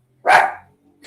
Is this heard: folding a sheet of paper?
no